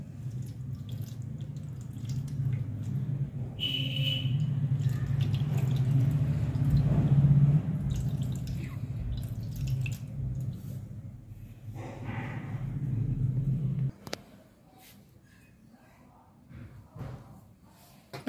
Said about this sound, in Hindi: इस तरीके से ठाकुर जी का पंचामृत स्नान कराएंगे